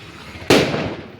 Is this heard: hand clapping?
no